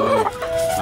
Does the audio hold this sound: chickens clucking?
yes